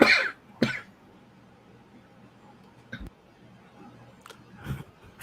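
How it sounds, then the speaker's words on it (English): A man coughs several times in short, harsh bursts, close to the microphone, with quiet gaps between the coughs and a few softer throat-clearing sounds. "he coughed"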